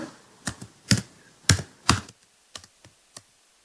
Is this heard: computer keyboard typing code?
yes